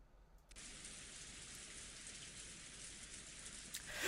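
Steady rain ambience from the Umineko When They Cry video game, a dense broadband patter that starts abruptly after a brief quiet moment and then holds constant at a moderate level, heard alone without voices.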